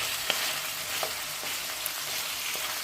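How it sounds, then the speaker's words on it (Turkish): Lamb pieces fry with butter in a metal pan, a steady broadband sizzle running throughout with a few soft scraping knocks as the meat is stirred. "Evet bir parça gördüğünüz gibi tereyağımı ilave ettim. Karıştırıyorum."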